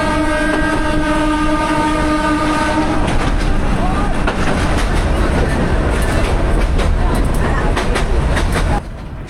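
A Narayanganj commuter train runs on the line out of Old Dhaka in Bangladesh. It rumbles loudly and steadily with rail clatter, and a horn sounds through the first few seconds.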